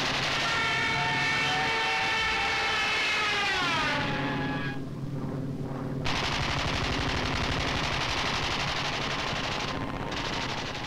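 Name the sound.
B-26 bombers and fighter planes attacking with machine-gun fire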